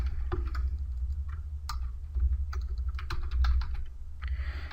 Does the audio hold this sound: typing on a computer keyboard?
yes